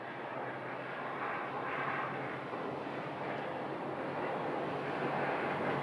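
Jet airliner departing Sky Harbor airport in Phoenix, a steady broadband engine roar at moderate distance that holds level throughout with a faint wind rush, no talking.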